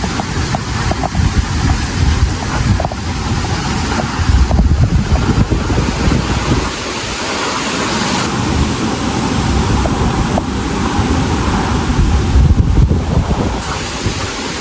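Super typhoon Aghon battering Quezon Province: loud, continuous roaring wind and buffeting gusts with heavy rain, rushing and surging over the whole stretch, no voices.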